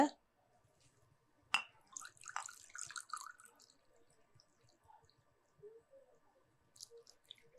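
Water poured into a large bowl of measured rice flour for making kozhukattai: a sharp splash followed by scattered wet drips, trickles and soft squishing, fairly quiet, with some faint sounds in the background.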